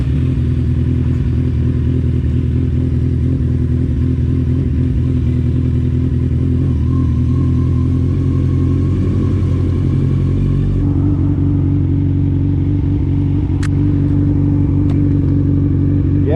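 A 2003 Kawasaki Z1000 with an electrical fault runs with a steady, loud engine drone, swelling briefly as the rider blips the throttle for a quick burst of power, with no talking.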